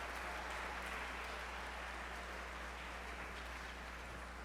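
Guests at an evening gala dinner applaud the servers and kitchen staff, a faint, distant, steady wash of clapping that sounds almost like rain and holds evenly throughout.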